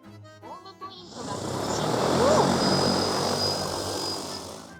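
A DJI Agras T50 agricultural drone spins up and lifts off over a farm field, its rotors swelling into a loud, steady propeller roar after a brief moment of speech at the start.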